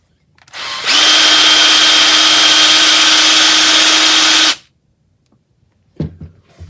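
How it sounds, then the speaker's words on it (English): A cordless drill driving a Craftsman hedge trimmer attachment spins up and runs at a steady high-pitched whine for about four seconds, close and loud, then stops, followed by a brief clatter. "I'm going to put it into a regular cordless drill"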